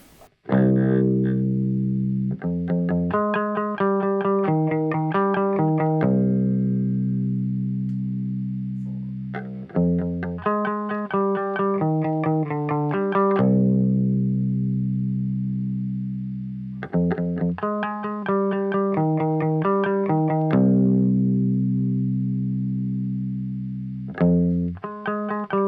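A distorted electric guitar plays a song riff, alternating quick picked note runs with long sustained low notes. The heavy tone is played alone and repeats in a steady cycle.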